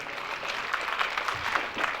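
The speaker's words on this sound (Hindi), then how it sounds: "जो भी टीम आई उनके लिए एक बार जोरदार ताली बजा दें।" An audience at a Shiv Mahapuran religious discourse gives a visiting team a round of applause, with a steady wash of crowd clapping that sounds fairly distant and moderately quiet.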